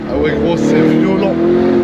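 Lamborghini Urus taxi with a V8 revving hard, a loud throaty engine roar rising and holding close by, with excited voices talking over it inside the car.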